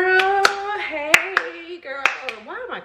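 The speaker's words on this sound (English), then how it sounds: "why am I clapping like I'm a" A woman gives about six sharp, close hand claps at irregular intervals while she talks and exclaims over them.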